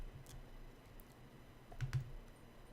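Faint, scattered clicks of fingers typing on a computer keyboard, a few light taps spread over a couple of seconds in a quiet room.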